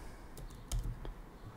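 A few quick, soft keystrokes on a computer keyboard, close and fairly quiet, a short tapping burst with no voice over it.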